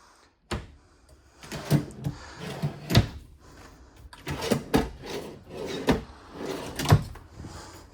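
Built-in kitchen drawers in a 2025 Fuzion 442 toy-hauler travel trailer are pulled open and pushed shut repeatedly, giving a series of close, sharp knocks and sliding rattles at an irregular pace, with no talking.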